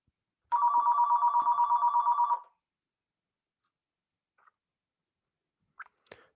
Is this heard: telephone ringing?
yes